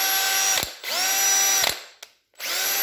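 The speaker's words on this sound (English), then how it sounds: "I'd be very confident that that drill is going right now" A repaired Milwaukee cordless drill with a replaced motor whirs up loudly in several bursts, each spin winding down with a falling whine and clicking, followed by a short silence before starting again.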